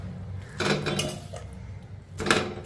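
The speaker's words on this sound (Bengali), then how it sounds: "তো সবার আগে এটাকে দেবো প্রেসার কুকারে, হাত দিয়ে দিতে হবে।" Pieces of mutton go by hand into a metal pressure cooker, making a few quiet clunks and rattles in separate bursts, with a louder knock near the end.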